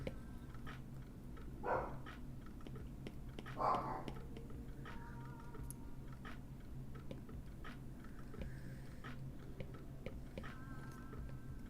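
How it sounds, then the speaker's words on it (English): A small dog barks twice, a short burst and then another a couple of seconds later, moderately close over a steady low background hum, with a faint ticking in the room and no talk. "My crazy little dog. He likes barking at people."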